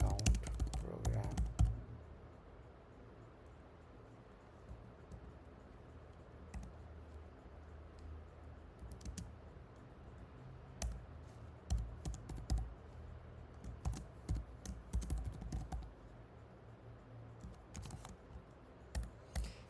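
Soft clattering keystrokes on a computer keyboard while a PySpark word count program is written, coming in irregular bursts with pauses, fairly quiet and close.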